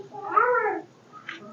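A cat meows once, a clear drawn-out rising and falling call up close, followed by a short faint squeak and quiet room noise.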